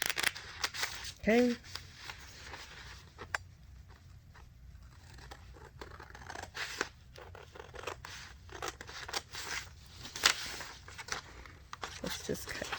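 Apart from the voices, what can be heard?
scissors cutting out a paper sewing pattern tab piece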